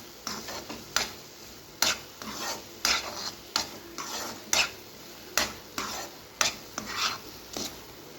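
Bread halwa cooking in ghee is stirred steadily in a pan, with close, repeated scraping and sloshing strokes about every half second to a second, each stroke a soft rasp against the metal, with no voices.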